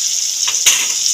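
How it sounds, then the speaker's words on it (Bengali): Potato pieces, cut long, with salt and turmeric, frying in hot oil in a pan: a steady bright hiss with a brief sharper crackle partway through, close and fairly loud, no voices. "আলুগুলোকে তেলের মধ্যে দিয়ে দিলাম।"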